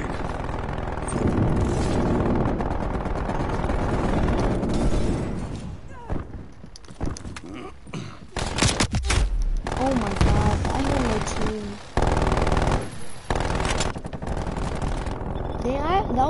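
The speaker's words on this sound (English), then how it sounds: "Hostile sentry turret active. Multiple enemy sentry turrets active." Rapid automatic gunfire from enemy sentry turrets in a shooter video game, loud bursts of shots with brief breaks, and an automated voice announces over the gunfire.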